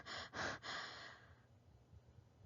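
A voice imitates rapid breathing with a few quick, loud in-and-out breaths, then trails off into a softer, fading exhale.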